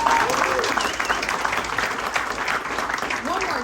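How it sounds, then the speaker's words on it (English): A crowd at a Ducati racing team party in Austin, Texas applauds motorcycle racer Corey Alexander, steady dense clapping with some cheering and voices mixed in throughout. "Big round of applause for Corey Alexander."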